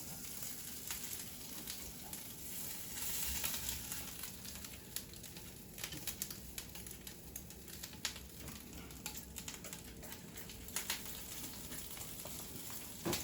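Crab cakes fry in a pan with a steady, faint sizzle and crackle, small pops scattered throughout over a low, even hiss.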